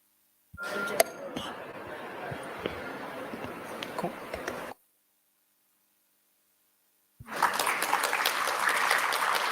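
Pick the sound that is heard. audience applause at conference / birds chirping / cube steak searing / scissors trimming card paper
audience applause at conference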